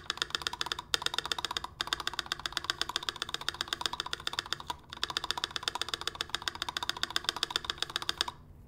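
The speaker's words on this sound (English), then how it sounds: "This is what a GMK spacebar sounds like." Rapid clacky typing on a mechanical keyboard with a GMK spacebar, dense close keystrokes in a steady run with a few brief pauses, moderately loud, no speech.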